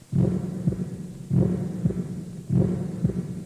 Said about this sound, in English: He then heard the sound of his heart beating.